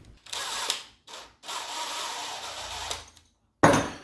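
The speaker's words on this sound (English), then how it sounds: "So I grabbed some steel wire and braided it using my power drill." A power drill whirs in several bursts as it twists steel wire into a braided cable, stopping and starting with short silences between runs and a sharp final burst.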